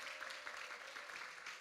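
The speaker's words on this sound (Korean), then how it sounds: "잘했다고 우리 박수 한번 해줄까요?" Youth congregation at a Korean church Sunday service applauding together, a steady, fairly faint wash of clapping from the room with no voices over it.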